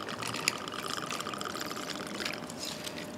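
Bourbon poured into a glass of ice for an apple cocktail, a steady close trickling pour lasting a few seconds, with a small clink near the start and no talking.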